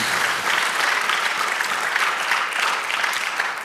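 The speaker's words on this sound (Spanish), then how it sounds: "dale aplauso a nuestro Dios" A congregation applauds during a church service, sustained clapping from many people holding steady for several seconds before easing slightly at the end, with no talk over it.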